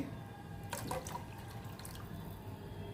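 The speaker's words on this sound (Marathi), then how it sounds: "त्यामुळे अजून पाणी घालून घेते" Water is added to a thin Malvani-style black pea sambar, with faint splashing and dripping in a short burst partway through over a low, steady background hum.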